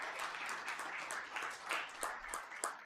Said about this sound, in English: I'll give them one more round of applause,